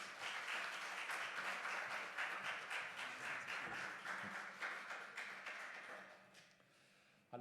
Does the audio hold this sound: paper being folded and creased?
no